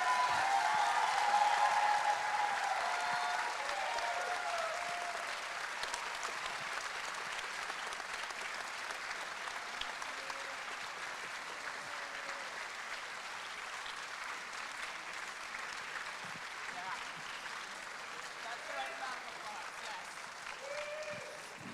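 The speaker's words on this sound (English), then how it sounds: "let's give them a huge round of applause" A large crowd at an Arizona robotics competition kickoff gives a long round of applause for the planning committee, loudest at the start and then settling into sustained, even clapping with faint voices underneath.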